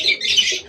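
Pet pigeon gives a short, close, soft cooing call during morning feeding, a brief burst with no voices.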